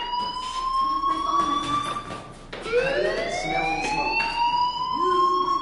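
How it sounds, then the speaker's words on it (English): A fire alarm blares in the video game Life is Strange, a loud, continuous electronic siren with rising and falling sweeping tones and a brief dip partway through. "do you hear that fire alarm? That means you should be outside."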